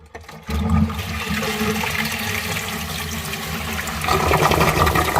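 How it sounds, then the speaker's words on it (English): A toilet flushes loudly nearby and keeps rushing steadily as the cistern refills, the surge swelling again near the end of the short clip. "Don't give it a flush."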